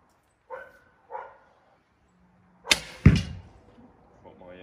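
An arrow loosed from a 115 lb Beowulf flatbow in a garden gives a sharp, loud crack of string and limbs, followed by a quick thud. A dog barks faintly twice just before the shot.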